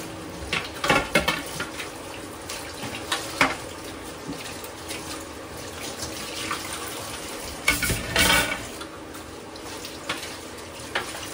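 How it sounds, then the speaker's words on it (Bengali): Dishes washed under a running tap at a sink: steady water hiss with several sharp clatters of pots, plates and cutlery knocking together close by, no talking. "আর এখন আমি বাসন মাজবো"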